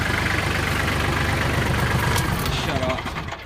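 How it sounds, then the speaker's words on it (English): An old diesel engine in a Kubota L3830 tractor idles nearby with a rattly, knocking low rumble, while a person talks over it. "Those old diesels are a little rattly"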